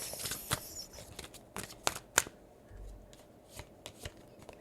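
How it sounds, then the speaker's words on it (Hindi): Tarot cards being shuffled and drawn for a pick-a-card reading, giving a run of quick papery riffles and soft slaps with a few sharper snaps, close and fairly quiet, with no talking. "एंजल्स और कार्ड्स निकालो please. Give me more cards."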